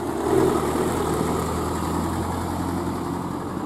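A car fitted with a replacement engine idles at a garage and pulls away, giving a steady low rumbling hum with a slight swell early on, close and continuous with no talk.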